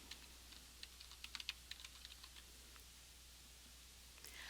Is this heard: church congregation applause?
no